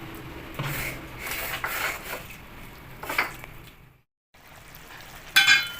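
Tangra fish go into a pan of cauliflower and potato curry with spice paste, giving bursts of frying sizzle and stirring scrapes, a brief silent gap, then a sharp final hiss.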